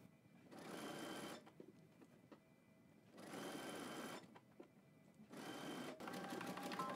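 A sewing machine stitches elastic onto swim trunks, running in three close, steady bursts of rapid needle whirring separated by brief quiet pauses.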